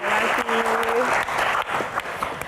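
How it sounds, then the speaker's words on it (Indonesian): An audience applauds beauty queens at a crown Q&A event, dense clapping filling the short stretch while a voice briefly speaks or sings a held tone underneath. "tepuk tangan sekali lagi untuk Queen kita"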